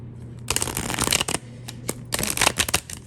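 Tarot cards shuffled in quick, riffling bursts, close and crisp, in two bouts separated by a short pause.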